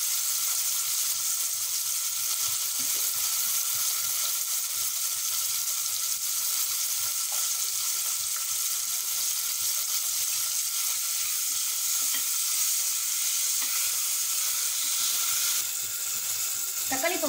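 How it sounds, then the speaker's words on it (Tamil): Tomatoes sautéing in a pan for egg biryani give a steady, fairly loud sizzle and hiss that runs unbroken throughout, with faint scraping now and then. "தக்காளி இப்போ வதங்கிட்டு இருக்கு"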